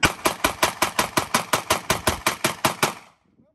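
A 22 TCM firearm fires at a shooting range in a rapid, evenly spaced string of about thirteen loud, sharp shots. The shots stop abruptly and leave near silence.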